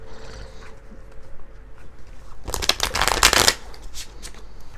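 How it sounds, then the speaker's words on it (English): A deck of tarot cards being shuffled by hand, a quick riffling flurry of papery snaps and flutters rising in the middle and then fading, preceded by soft quiet handling. "Let's shuffle the deck."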